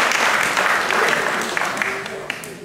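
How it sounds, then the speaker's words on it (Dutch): A crowd at a birds-of-prey gathering breaks into applause for Marga and Theo, brisk clapping that gradually thins out, with a voice speaking faintly underneath. "Ik wil toch een applaus voor Marga en Theo"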